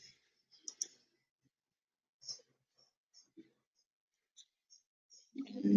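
A computer mouse on a Windows 10 PC gives a few sparse, quiet clicks spread out in near silence, with a brief breathy noise near the end.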